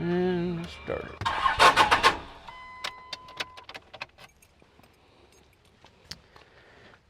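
A truck's key turns with jangling, then the starter cranks with a short rough grinding burst followed by scattered clicks and faint mechanical ticking; a voice speaks at the start.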